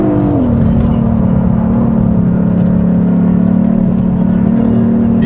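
A steady synthesized active engine sound from a 2021 Hyundai Sonata N Line at Inje circuit drones continuously at a constant pitch, dipping slightly at the start, loud and close with no talking.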